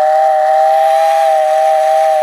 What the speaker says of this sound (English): Oh, yeah, I also got this little whistle.